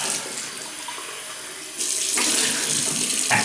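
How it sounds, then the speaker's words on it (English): A tap runs warm water into a sink while a double-edge safety razor is rinsed after a shave, giving a steady close splashing hiss that grows louder and fuller partway through. "I'll just rinse off, clean that razor after."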